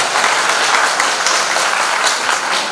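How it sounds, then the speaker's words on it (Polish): A studio audience at a Polish documentary screening event applauds in a dense, even wash of many hands, loud and steady throughout. "dla którego również wielkie brawa"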